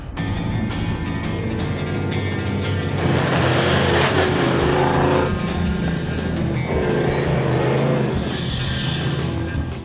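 A 4WD on low tire pressures descends a desert sand dune in the Simpson Desert, with a loud engine roar that swells and surges as the vehicle pushes through the sand.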